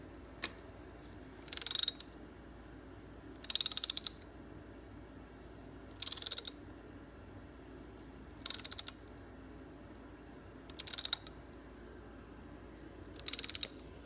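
A ratchet tightens motorcycle exhaust stud nuts in six short bursts of rapid clicking, each about half a second long and evenly spaced, close and clear over quiet room tone, with no talk.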